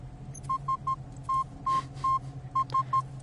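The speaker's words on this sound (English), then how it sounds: "the Morse code is coming from over here" Morse code beeps from a signal in the video game The Solus Project on PSVR: short and long steady tones in clustered groups, clear and fairly prominent over a low hum.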